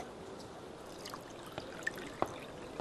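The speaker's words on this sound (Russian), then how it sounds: "Наливай." Sherbet drink poured from a vessel into a cup, a faint, quiet trickle of liquid with a few small drips and clinks over about three seconds, no talking.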